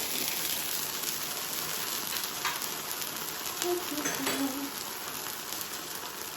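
A sauce-drenched birria taco sizzles and fries on a hot griddle, a steady crackling hiss close by throughout, with brief faint scrapes and no talk.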